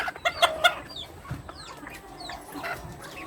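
Bantam chicken clucking nearby in a backyard flock, a quick burst of three sharp clucks followed by softer scattered chirps and murmurs from other hens.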